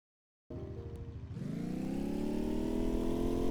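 A car engine in an online arcade racing game starts up and then revs into a rising, steady hum, loud and close with no talk.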